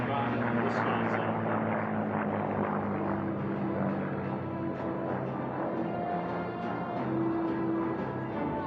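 The Thunderbird warbird, a piston-engine airplane, flies laps of the race course at the 2023 National Championship Air Races. Its propeller drone holds steady, loud and close, for the whole clip.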